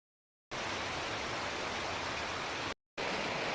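Bear Creek flowing along a trail crossing in wooded mountains, a steady broadband rush of running water close by that cuts out briefly and then resumes.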